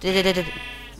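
A Minecraft sheep gives a short, wavering bleat, loud and close, repeated in a quick pulsing burst as it takes hits from a player in survival mode.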